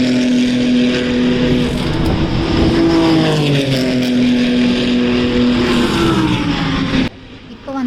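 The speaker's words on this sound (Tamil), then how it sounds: "இதோட இந்த காரோட சவுண்டெலாம் கேளுங்களேன், செம்மையாக இருக்கும்." Race car engine roaring loudly on a track in the Netherlands, with a sustained harmonic whine that rises and falls as the car sweeps past, then cuts off sharply near the end.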